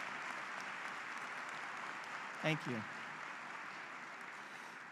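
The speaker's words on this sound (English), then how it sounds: "Let's give these initiates a big round of applause." Sustained applause from an audience at an engineering graduates' recognition ceremony, steady broadband clapping throughout with a brief spoken thank-you from a nearby voice midway.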